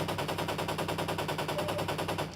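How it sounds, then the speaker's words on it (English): Pulse rifle in a video game fires a rapid, steady stream of evenly spaced shots, loud and continuous with no pauses. "We got the pulse rifle."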